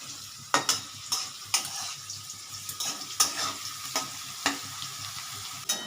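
Spice masala for ghugni frying in a pan, with a constant sizzle broken by regular sharp scrapes and knocks of a spatula stirring roughly every half second, close and clear.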